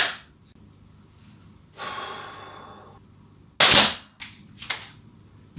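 A Zoraki HP Ultra pellet pistol fires sharp, close shots, with one loud crack followed by a couple of smaller bursts, amid quiet breathing and handling noise.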